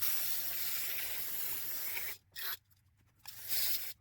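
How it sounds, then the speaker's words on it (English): Brake cleaner is sprayed from an aerosol can onto the outside of a Weed Eater TE400 trimmer carburetor, a loud close hiss lasting about two seconds, then short broken bursts and a final longer spray. "Get the outside of this carb cleaned up a little bit, just with some brake clean."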